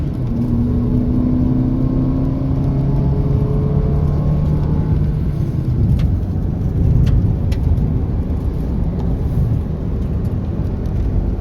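A car speeding along a road under repair on a rainy trip, heard as a steady, close engine hum and road roar that runs unbroken throughout, with no talking.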